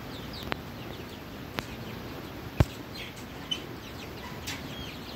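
Caged Fayoumi chickens cluck faintly in the background of a quiet poultry shed, with a few soft, scattered clicks and taps.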